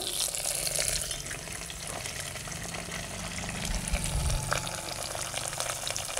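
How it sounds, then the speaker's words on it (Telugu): Chana dal, dried red chillies and curry leaves sizzle steadily in hot oil as a tempering for okra tamarind stew, with soft stirring scrapes under the frying noise. "అన్నీ వేసి బాగా కలుపుకోవాలి"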